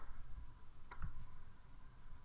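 A single faint computer mouse click during 3D modeling of a World Cup soccer ball, a brief sharp tick in a quiet room with a soft low thump just after.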